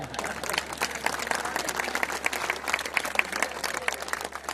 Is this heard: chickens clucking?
no